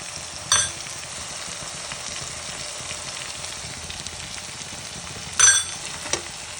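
Spices such as dry mango powder, crushed chilli and coriander being stirred into bottle gourd curry in a hot pan, a steady sizzle with two brief louder scraping stirs, close by, no talk.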